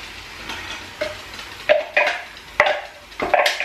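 Blended tomato poured into a pan of frying onion and meat, with a steady sizzle and intermittent stirring scrapes and utensil clinks against the pot.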